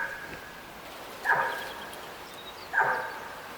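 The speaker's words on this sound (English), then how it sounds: "That's a lot of barking." An elk in a hunting video game barks twice, about a second and a half apart, each a short, sharp call heard at a distance over quiet background ambience.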